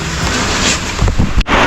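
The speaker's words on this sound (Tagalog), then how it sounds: "Ang ulan. Lakas ang ulan." Heavy rain pours down hard, a loud, dense, continuous roar with a brief dip near the end.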